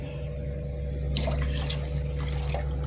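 Water pours steadily into rice in a cooking pot while coriander-mint rice is being made, a soft continuous splashing over a low steady hum that brightens partway through.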